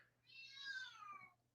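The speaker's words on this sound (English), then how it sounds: "I don't know if you can hear my cat in the background" A house cat meows once in the background, a single drawn-out, fairly faint call lasting about a second over a low steady hum.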